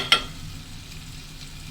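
A spoon stirs a quail egg roast in a pan, giving one sharp scrape near the start, then a quiet, steady sizzle of the frying masala, close and alone without speech.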